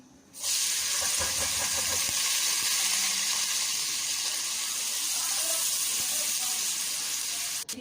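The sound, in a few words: onions frying in oil in a pan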